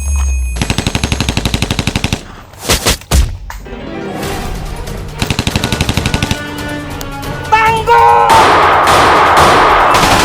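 Rapid bursts of automatic gunfire crackle loudly in an action film, interrupted by sharp single shots and impacts, with someone shouting a name in the middle and a booming, noisy blast near the end.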